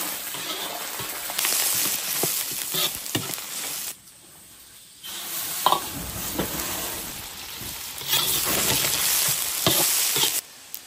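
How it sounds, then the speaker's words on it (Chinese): Chicken giblets stir-fried in a hot iron wok, with steady loud sizzling and scraping stirs that drop out briefly midway, then resume strongly. "先把鸡杂炒一下，"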